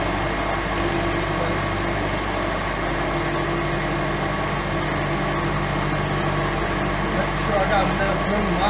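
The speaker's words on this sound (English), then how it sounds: "Got a little 3/8 carbide mill and I'm running about 600." Lagun milling machine cutting metal with a 3/8-inch carbide end mill at about 600 rpm, a steady, loud, continuous machining drone with a constant motor hum throughout.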